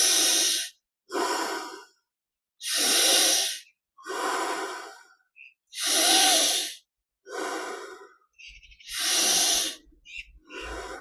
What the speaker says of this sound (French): Petite respiration encore pour saturer le corps en prana